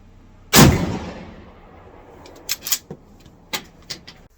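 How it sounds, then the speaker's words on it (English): A Remington 870 shotgun fires once at an outdoor range, a single loud close blast with a long fading tail, followed by a few fainter clicks and clunks. "So we've been shooting a few different guns."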